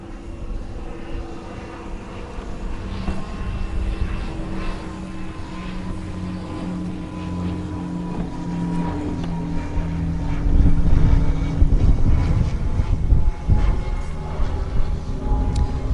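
A heavy-duty Permobil M300HD power wheelchair with an HD motor and large seat drives across grass in a yard, its steady motor hum running the whole time with wind noise, swelling louder near the end.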